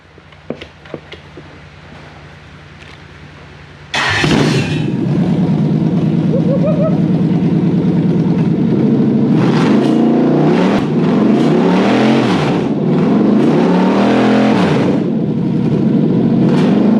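A supercharged Toyota Hilux engine cranks and fires after a few clicks, then idles loudly and revs repeatedly in rising and falling surges, up close.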